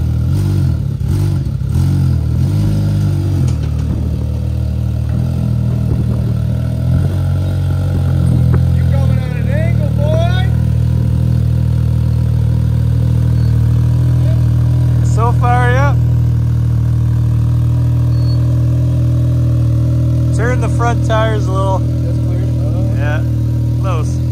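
A side-by-side UTV engine with its muffler opened up idles and revs on a sandy trail ride, a loud, close, steady drone with rising throttle swells, as people talk over it.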